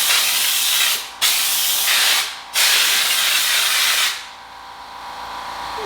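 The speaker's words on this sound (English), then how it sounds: "I'll let the compressor catch up a little bit" An air compressor powers a drywall texture sprayer, sending out loud, close bursts of hissing spray air. Two short pauses break the spray before it fades to a softer background hiss, with no talking.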